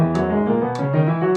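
A piano plays a slow run of sustained scale notes at tempo 100, each ringing into the next, with three distinct note attacks across the short stretch.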